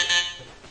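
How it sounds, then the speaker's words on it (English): An electronic door buzzer sounds briefly, a bright high-pitched tone that fades quickly over less than a second. "We were just falling asleep when I heard the buzzer."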